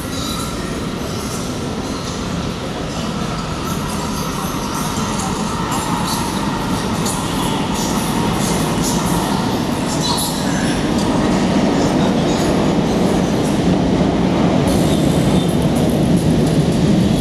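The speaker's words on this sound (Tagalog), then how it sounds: "Oh, nandito na yung train." An LRT train rolls into Balintawak station, a loud, steady rumble of wheels on rail with faint squeals and clatter building slightly as it comes closer.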